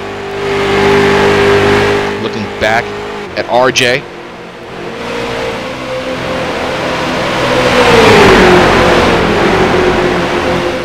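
A street stock race car from an iRacing race at Charlotte, its engine droning steadily beneath talk, with brief sharp pitch surges and a swelling pass of another car near the end.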